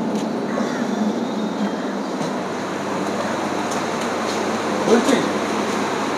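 A Habra local train at Bidhannagar station, a steady rumbling roar of railway cars close by with a brief louder clatter midway, station ambience underneath.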